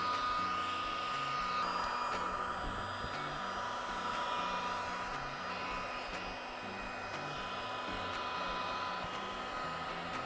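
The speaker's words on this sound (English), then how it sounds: "I'm going to evenly heat that up with the heat gun" Heat gun blowing a steady, whirring hiss with a motor hum underneath while it warms a Lexan sheet for a sailboat engine instrument panel cover, constant and close for the whole stretch.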